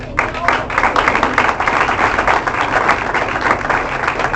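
A church congregation at a sermon on repentance gives loud, steady applause that continues evenly for several seconds, with voices mixed into the clapping.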